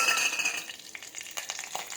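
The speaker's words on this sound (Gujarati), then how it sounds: "તેલ ગરમ થઈ ગયું છે તેમાં જીરું નાખીશું લીલા મરચાં નાખીશું" Cumin seeds and green chillies hit hot oil in a pressure cooker for Gujarati potato shaak, giving a bright crackling sizzle with scattered spits and pops. The sound is close and steady and stays on its own without voices.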